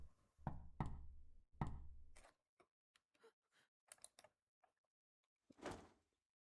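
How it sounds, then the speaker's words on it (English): Knocking on a door in the visual novel Chaos;Child: a few heavy, close thuds at the start, followed by scattered lighter taps and clicks, then one more louder burst near the end, with no voices. "Suddenly, I heard a knock at the door."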